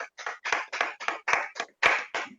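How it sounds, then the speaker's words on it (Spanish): A church congregation at a Sunday family service claps in a steady rhythm, about nine crisp beats in quick succession with no voices over them. "¿Qué tal si le damos un aplauso al Señor por todo eso que Él ha hecho?"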